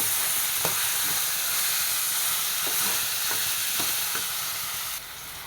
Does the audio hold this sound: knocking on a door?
no